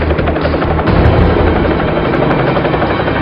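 A military helicopter drones loud and close with continuous rotor roar, while bursts of gunfire crackle through it in a steady, dense wash.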